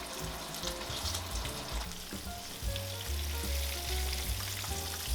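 Steady crackling sizzle of a pork cutlet deep frying in oil at 160 degrees Celsius, continuous and close, with faint clinks and a low hum underneath.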